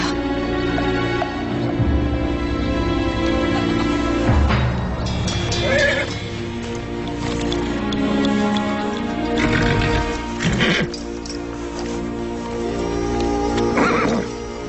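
A horse neighs and whinnies several times, the calls rising loud and close over hoofbeats and rustling, with little or no talk.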